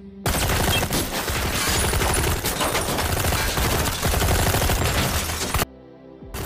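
Dense, rapid gunfire from an action film scene in which a hired killer carries a long-barrelled rifle. Loud bursts overlap into a continuous fusillade, then cut off abruptly near the end.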